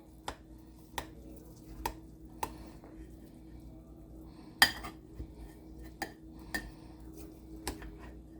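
A serving utensil scoops cauliflower casserole out of a baking dish, making a series of sharp clinks and scrapes at irregular intervals, close and fairly quiet, with one louder knock midway and no voices.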